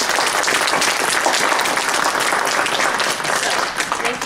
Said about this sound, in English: I'd like to give a round of applause to our family and friends who have supported us along the way